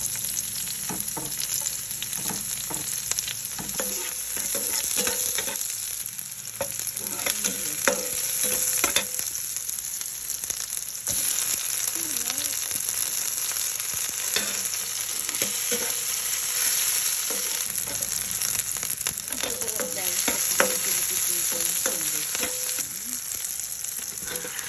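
Onion and garlic sizzle and crackle in a hot pan while being stirred, a continuous loud frying hiss with scraping spatula strokes scattered through, no voices.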